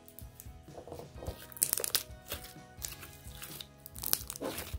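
Crunchy bright pink material, squeezed and worked into a lump by hand, gives repeated crackling crunches up close, with brief rustling bursts in an uneven rhythm and no talk over it.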